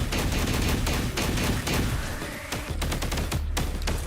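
Dense, continuous gunfire from the action game Punishing Gray Raven, loud overlapping shots and bursts rattling steadily with brief lulls and sharp individual cracks toward the end.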